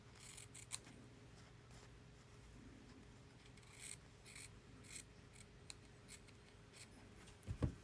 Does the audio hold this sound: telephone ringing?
no